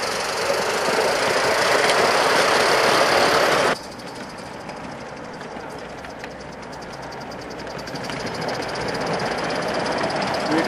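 Accucraft M6 gas-fired live steam Gauge 1 locomotive running on a garden track, a steady loud broadband hiss and chuff that drops sharply after a few seconds as it is throttled back, then gradually builds again; no talk.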